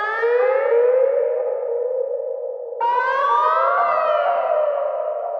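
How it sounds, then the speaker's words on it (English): Electronic echo effect with feedback, in a piece that turns a sushi restaurant into an instrument: loud, eerie siren-like tones that slide downward in pitch, cut off, then restart higher and drift down again, with no voices. "we're creating feedback, which is what gives it this really weird pitch drift sound"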